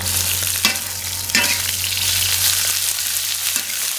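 Pork, ginger and pickled cabbage stir-fried in a pan, giving a steady loud sizzle with a low hum underneath and a few sharp scraping stirs along the way.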